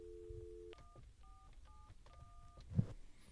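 Dialing tones on a SIP VoIP landline phone: a steady dial tone, then a quick series of short two-pitch keypress beeps, quiet and close, ending with a brief clunk.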